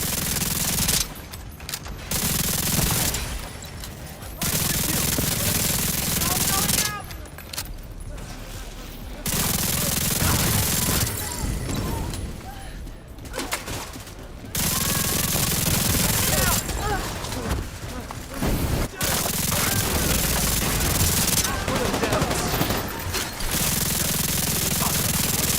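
In The Division 2, loud sustained bursts of automatic turret fire at a main gate roar in long stretches, broken by short gaps, and talk runs beneath the shooting.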